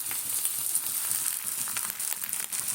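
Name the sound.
water poured onto frying coriander, turmeric and Kashmiri chilli powder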